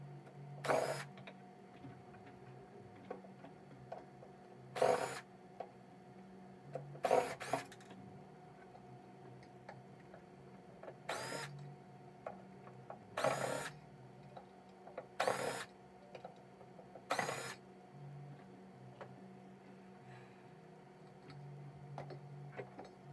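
Screws are being removed from an Altec Lansing subwoofer, heard as sharp intermittent clicks and brief ratcheting bursts over a quiet background hum, spaced irregularly across the clip.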